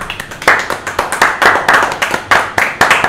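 One person claps loudly and close by, a steady run of about a dozen sharp hand claps in an even rhythm.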